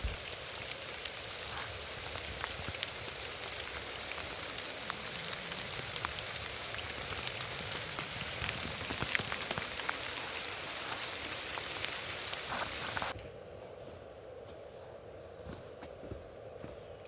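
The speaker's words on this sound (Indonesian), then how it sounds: "gerimis yang tadinya mulai reda, kini malah mulai menderu" Rain falls steadily on a mountain hiking trail on Mount Slamet via the Sawangan route, a dense, close hiss of drops that suddenly thins to a softer patter near the end.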